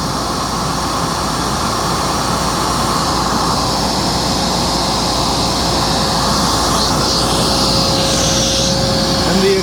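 A Singer Lazer Storm AS 01A running during an airflow test, a loud, steady whirring rush of air with a constant motor tone and a thin whine layered on top, unchanging for the whole stretch.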